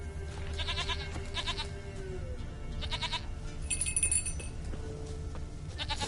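A goat in the video game The Witcher 3 bleats several times in short wavering bursts over a low game ambience, with a faint clink near the middle.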